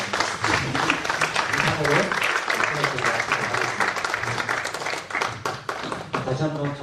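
Audience at a church forum applauds after a panel discussion, a dense, lively burst of clapping sustained for several seconds with some voices mixed in.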